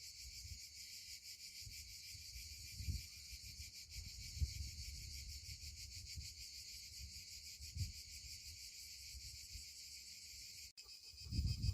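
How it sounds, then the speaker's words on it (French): Cicadas sing loudly in a shaded spot in the Esterel, a continuous, dense, high-pitched buzzing drone that holds steady throughout, with faint low rumbles and footsteps beneath. "le chant des cigales, mais très fort. Il résonne."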